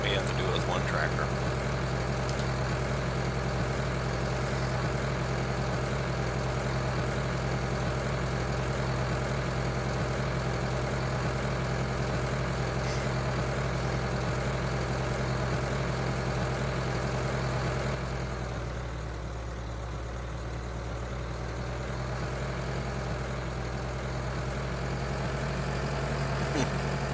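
Tractor engine idling on a farm in Vojvodina, Serbia: a steady low diesel rumble holds at even loudness throughout, dipping briefly partway, with no speech heard over it.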